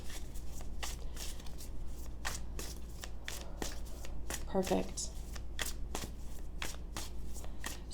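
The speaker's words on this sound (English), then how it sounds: "So I'm just going to shuffle a few times here while I talk" Tarot cards being shuffled by hand in a quick series of crisp, close riffling bursts at a steady rhythm, with someone speaking briefly under the shuffling.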